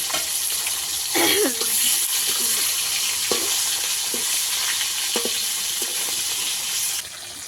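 Rupchanda pomfret fish pieces fry in hot oil with a constant dense sizzle, broken by a few soft clinks and scrapes of a utensil, with the hiss easing near the end.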